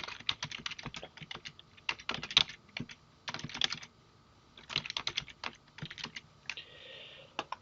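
Keys clatter on a computer keyboard as a calendar appointment title is typed. Quick irregular bursts of clicks run close and quiet against a silent background, with short pauses between words.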